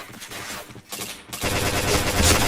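Gunfire from the shooter game Point Blank, a dense burst of rapid shots swelling louder in the second half after a brief dip, with no talk over it.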